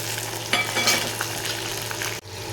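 Small shallots frying in a pan for a crab gravy, a steady close sizzle with occasional stirring scrapes and clinks, with no talking.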